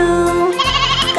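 A lamb's bleat woven into a sung children's nursery rhyme, loud and close, blended with music and a singing voice.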